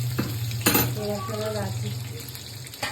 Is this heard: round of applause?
no